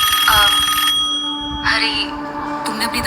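A telephone rings with an incoming call, loud bursts of trilling electronic ringing, one long burst followed by shorter ones, close and clear with faint background sound between rings.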